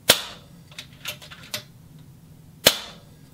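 A PCP air rifle on maximum power fires indoors with a sharp, loud crack at the start, a few lighter mechanical clicks, then a second loud crack near the end.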